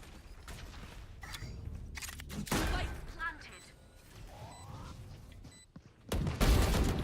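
Rapid bursts of gunfire and clicking weapon mechanisms from a Valorant match, mixed with game effects and heard beneath excited commentary.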